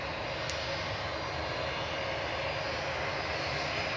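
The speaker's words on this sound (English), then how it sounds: "Lufthansa is going to be departing next." Lufthansa airliner departing Manchester Airport, a steady distant roar of jet engines that holds evenly throughout with no voices.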